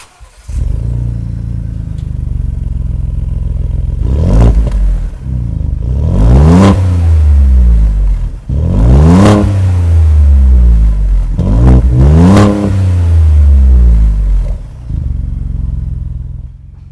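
A 2021 Ford Bronco fitted with MBRP test exhaust number 4 revs hard in a series of about four rising and falling bursts, loud and close, with a steady idle rumble between them and no talk.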